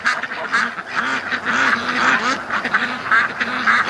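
Ducks quack loudly and excitedly in a repeated, overlapping series of calls, close by and continuous throughout with no talking.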